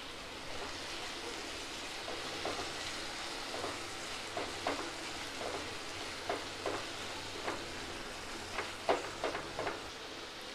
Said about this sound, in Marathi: आता हे छान आपण परतून घेऊया